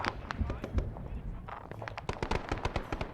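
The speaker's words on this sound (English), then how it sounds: "I think that was just the AA that I target" Anti-aircraft gunfire from an Arma Vietnam-era operation, a rapid string of sharp, fairly loud reports that grows denser toward the end, with a voice speaking over part of it.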